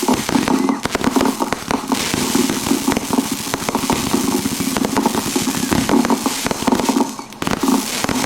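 A Fourth of July fireworks grand finale: dense, rapid-fire bangs and crackling bursts overlap continuously, loud and close, with hardly a pause.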